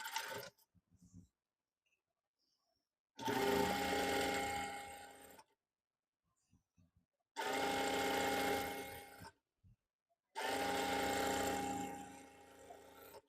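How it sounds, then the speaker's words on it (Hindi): An electric sewing machine stitches a straight seam on the hem of an Afghani trouser in three sustained bursts, with short pauses of silence and faint clicks between them. "तो हम यहाँ पे 6 इंच पे मार्क करेंगे और सीधी सिलाई लगाएंगे"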